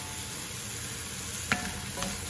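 Vegetables and meat frying in a pan for a nasi goreng base, a steady close sizzle with two quick scraping stirs near the end.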